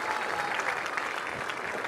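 Steady crowd applause at a comedy show during the Fiesta del Productor in Añelo, an even wash of clapping from a sizable audience lasting the whole short stretch without talk.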